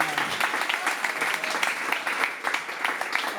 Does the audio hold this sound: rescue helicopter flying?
no